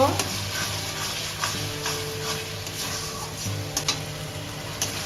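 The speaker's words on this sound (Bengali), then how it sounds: "কাজু বাদাম বাটা আর দু মিনিট ভেজে নেব" Cashew nut paste frying in oil in a pan for methi chicken, stirred with occasional light scrapes and taps over a low, steady sizzle and a faint background hum.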